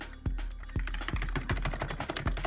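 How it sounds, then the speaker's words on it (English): Fingers type on an old 1998 computer keyboard in a studio, producing a quick, irregular run of close, clicky key presses with a few heavier thumps among them. "This is an old school keyboard from like '98, but I just fucking love it."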